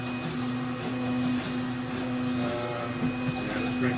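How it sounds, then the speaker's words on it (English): 3D printer extruder straining during a high-flow hotend test, a steady loud mechanical whir with a droning motor tone and faint rhythmic knocking, continuous throughout. "at this point I can hear the extruder having a hard time"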